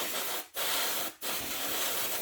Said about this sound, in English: easier job than blasting your bike with brake cleaner. But yeah, so basically what we're going to do is we just have a quick blast here in 2 seconds